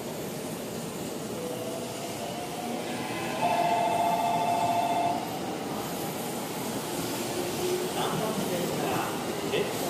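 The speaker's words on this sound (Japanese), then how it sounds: "313系です。 名古屋方面を取りました。" A JR 313 series train bound for Nagoya rumbles past at Kanayama station with a steady, loud roar, and a high motor whine rises near the middle and then fades back into the rolling noise.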